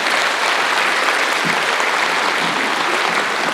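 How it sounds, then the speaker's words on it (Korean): An audience at a town-hall gathering with a provincial governor in Geumsan, Korea, claps steadily and densely for a few seconds, with no voices over it. "박수와 환호로서 단상으로 모시도록 하겠습니다"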